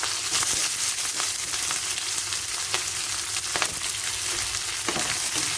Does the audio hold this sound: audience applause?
no